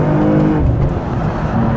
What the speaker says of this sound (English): Let's slow down to 40 and do a nice pull here and see how this thing accelerates.